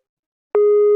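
A phone tone sounds after a short silence, a single loud, steady electronic beep holding on a pure pitch, close and alone.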